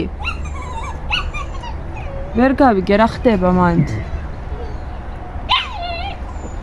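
Dogs scuffling in a fight, giving sharp yelps and whimpering cries in the middle of the stretch, close and loud, with someone talking before and after.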